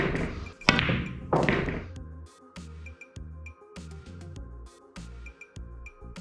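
Pool cue ball struck low with a bit of left spin, a crisp tip-on-ball click followed by a run of rhythmic hollow knocks and clacks as the balls roll and contact across the table, close and clear with no talk.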